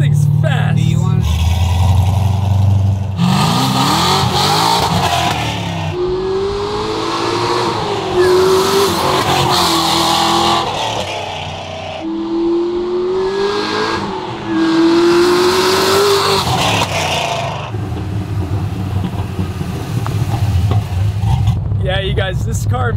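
A supercharged 1969 Chevelle roars loudly with rising engine revs and squealing tires, the pitch climbing through repeated acceleration pulls, while people talk over the noise.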